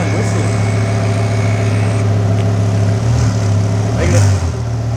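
A 1000BHP Lamborghini with a custom-fabricated exhaust rumbles at a steady, deep idle close by, with a couple of short throttle blips swelling the growl near the end.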